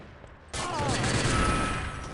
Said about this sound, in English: Fantastic nade, and Maku finishes it off with the M4